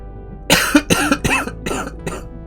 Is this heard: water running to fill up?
no